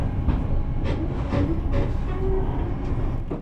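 Passenger train rolling along rails in Brazil near a mine, a steady rumbling clatter with faint rhythmic rail clicks heard from on board, continuous and moderately loud.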